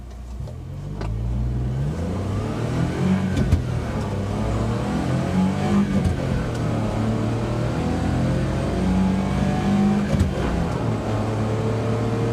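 A Suzuki Carry non-turbo mini truck accelerating from 0 to 60 mph on an open road, its engine droning steadily and climbing in pitch through several gear changes, heard from inside the cab.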